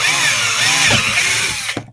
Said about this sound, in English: you're going to hear the unbridled power of a 12-volt Black & Decker cordless drill for a half second